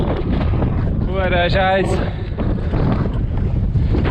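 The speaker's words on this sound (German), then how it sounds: "Es ist verdammt windig." Strong wind in Oman buffets the microphone as a steady, loud rumbling roar through the whole stretch, with a voice speaking briefly over it.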